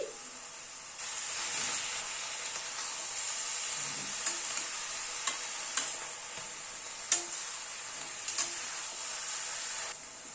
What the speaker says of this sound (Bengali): আলুটাও মিশিয়ে দিচ্ছি